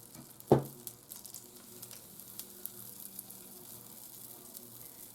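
Pancake batter sizzles in a big pan, opening with a sharp scoop-drop splat, then a soft, steady frying hiss with faint crackles and pops, close and quiet.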